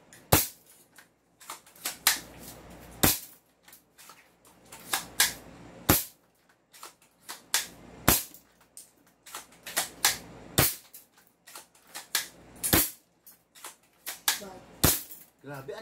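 An airsoft sniper rifle, a VSR10-type bolt action, fires repeatedly with sharp, close cracks every second or two, each followed by bolt clatter, and voices are heard between shots.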